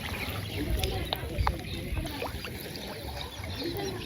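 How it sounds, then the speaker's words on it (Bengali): A rowing boat glides over water with gentle splashes and lapping close by, while a person talks over it. "এই যে আমাদের নৌকা"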